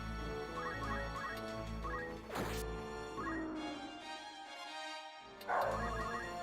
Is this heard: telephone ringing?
no